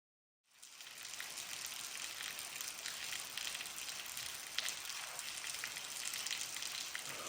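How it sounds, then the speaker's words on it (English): Light rain falling steadily outdoors where an old Ford is being worked on, a constant soft hiss that starts abruptly and continues evenly with no voices. "it's not raining hard, just enough to be annoying"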